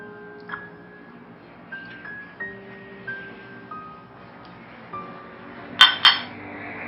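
A spoon clinks against a bowl while chicken boti marinade paste is mixed: a few scattered light taps, then two sharper, louder clinks near the end, over a faint tonal hum.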